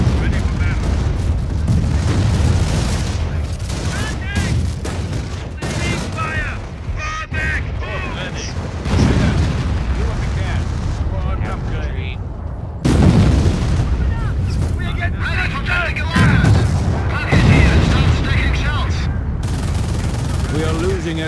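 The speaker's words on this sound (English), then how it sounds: "off-map artillery is now coming in on that thing, too" Off-map artillery shells landing in a strategy war game match, heavy booms and rumbling blasts mixed with scattered gunfire throughout, under near-constant excited commentary.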